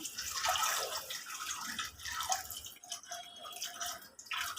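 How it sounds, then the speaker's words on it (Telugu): Water splashes and pours unevenly into a metal pressure cooker over dried peas, a close, bubbling trickle that surges and eases for several seconds. "గింజలు ములిగేంత వాటర్ పోసుకుందాం"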